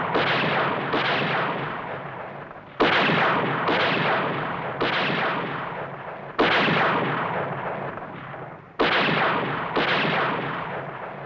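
Heavy gunfire in a dramatic scene: loud, booming shots repeat at irregular intervals of one to three seconds, each with a long decaying rumble, with no voices.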